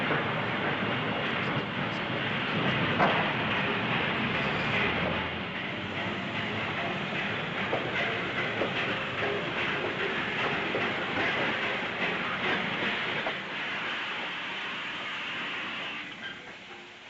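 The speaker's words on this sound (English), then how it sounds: "We seem to be destined to meet at the railway station." A train rolls through a railway station in the 1948 film The Red Shoes, a continuous rumble with rhythmic clickety-clack from the carriages, loud and close, easing slightly toward the end.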